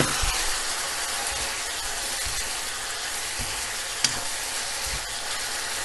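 Noodles with chicken and vegetables fry in a pan as soy sauce is added, giving a steady close sizzle and hiss with a few soft stirring knocks and one brief sharp tick, no talk.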